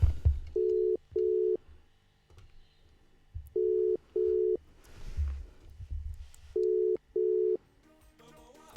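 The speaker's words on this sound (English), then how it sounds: "The phone is ringing." A telephone sounds a repeated double-pulse ring tone, three pairs spaced a few seconds apart, steady and clear, with muffled room noise and movement between the rings.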